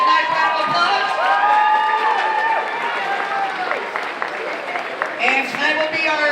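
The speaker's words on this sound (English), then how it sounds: "Let's give these ladies a nice round of applause." Crowd at a high school varsity swim and dive senior night applauds the divers, with steady clapping and cheering mixed with shouts and whoops filling the echoing pool hall throughout.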